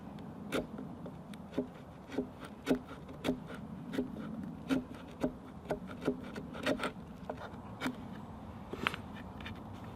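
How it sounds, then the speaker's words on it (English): A sharp flint chisels down a charred wooden digging stick outdoors, giving a series of crisp scraping and tapping strokes at an irregular but steady pace, close and fairly quiet. "what I'm going to try using a different piece of flint, slightly sharper edge, and I just try to chisel it down"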